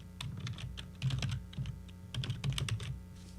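Code is tapped out on a computer keyboard while scripting in GameMaker Studio, a close, steady stream of clicking keystrokes in quick uneven bursts with no voice over them.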